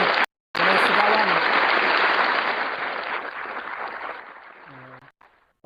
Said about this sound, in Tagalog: Palakpakan nyo naman sa sarili.